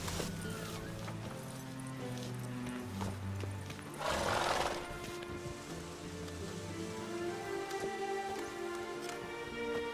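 Horse hooves clip-clop in The Witcher 3 on PS5, a steady muffled trot in the rain beneath a game music score, with a brief louder rush of rain or splashing in the middle.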